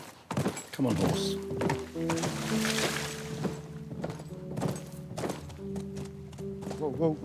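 Horse in The Last of Us moving with hoof thunks and clip-clop amid game sounds, a whinny-like tonal call and a voice over the top.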